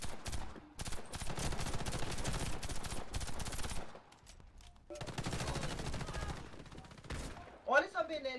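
Benelli shotgun fire in the online shooter Warface, bursts of sharp, rapid gunshots in two long volleys separated by a short pause, loud and close, with a brief electronic game tone near the end.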